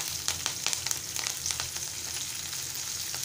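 Green chillies hit hot oil already holding cumin and asafoetida, giving a steady close sizzle with crackling pops throughout and no talk.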